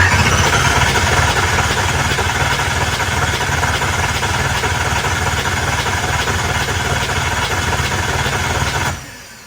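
An engine is spun over continuously for about nine seconds, a loud steady mechanical drone that cuts off abruptly near the end, with no talk.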